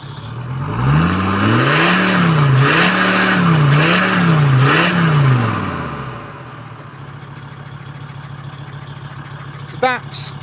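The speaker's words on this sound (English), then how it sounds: "So that's when you rev a diesel, you'll quite often see that." A tuned diesel engine revs hard through several rising and falling surges for about five seconds, loud and close, then drops back to a steady idle with a brief sharp click near the end.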